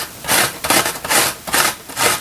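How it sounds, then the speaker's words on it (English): A halved onion is rubbed down the coarse side of a box grater, giving four rhythmic rasping strokes, loud and close, with brief pauses between them. "I'm going to grate this, the coarse side of my grater."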